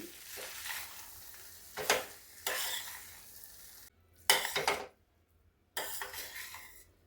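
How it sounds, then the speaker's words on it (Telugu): Temple-style pulihora, tamarind rice, is mixed with a spatula in a pan off the heat: a few soft scraping strokes in uneven bursts, separated by short silent gaps, close and moderately quiet, with no talking. "ఇప్పుడు స్టవ్ ఆఫ్ చేసి గట్టెతోటి ఇదంతా ఇలా కలుపుకుందాము"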